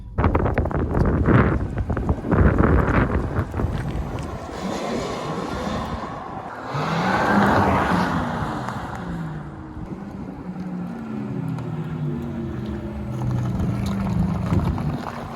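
A 2020 Porsche Taycan 750hp AWD electric car accelerates hard, with a rising motor whine building under heavy wind and road rush, loud and close from inside the cabin, with no talking.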